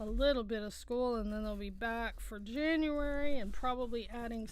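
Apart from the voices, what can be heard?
None of the usual background noises is heard.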